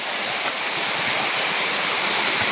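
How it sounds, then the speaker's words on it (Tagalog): A strong flow of water fills a formerly dry creek bed of soil, stones and sand, producing a loud, steady, broadband rushing with no pauses and no voices over it. "Napakalakas na ng tubig."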